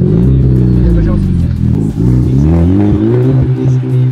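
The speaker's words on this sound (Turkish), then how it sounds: "O zaman araba sesini dinletebilir miyiz?" A car engine revs up and down loudly at close range, with the pitch rising and falling several times over a steady rumbling idle.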